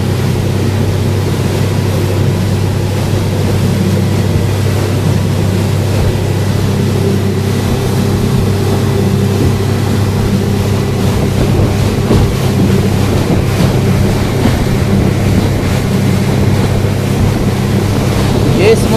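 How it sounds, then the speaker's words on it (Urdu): A speed launch boat races across a large open sea, its engine drone and rushing waves forming a loud, steady roar with heavy wind buffeting throughout, no voices. "یہ سمندر کی موجیں"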